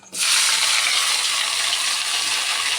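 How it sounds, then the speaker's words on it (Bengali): Panch phoron spices hit hot oil in a wok, bursting into a loud, steady hiss and crackle that starts abruptly and sizzles on close up without a break. "কড়াইতে সামান্য একটু তেল দিয়ে পাঁচ ফোড়ন দিয়েছি"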